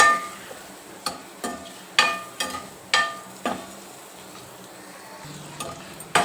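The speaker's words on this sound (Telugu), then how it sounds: "ఇప్పుడు ఉడికించుకునే ఎగ్స్ ఫ్రై చేసుకోవాలి" Boiled eggs fry in a kadai with salt, chili and turmeric, a soft sizzle underneath repeated close clacks of a spatula stirring and knocking the pan.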